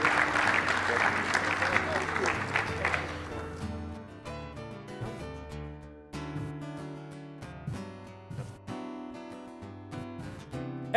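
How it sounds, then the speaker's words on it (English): Audience applause for the panelists at an industries town hall meeting during the 2018 AQHA Convention: a dense burst of clapping for about three and a half seconds that gives way to music. "would you join me in giving each one of our panelists a big round of applause for their insights today"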